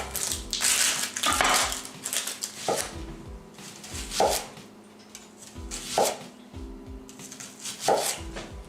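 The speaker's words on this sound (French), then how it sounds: "On fait des oignons, on fait des cercles." Knife cutting onions into rings on a board for a Cajun fried chicken burger, giving a steady series of crisp chopping thuds roughly every second, close and fairly loud with faint kitchen background and no talk.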